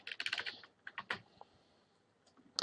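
A quick run of clicky keystrokes as a Linux tar command is typed on a computer keyboard, with a short pause, a few more presses and a final burst, close and fairly quiet.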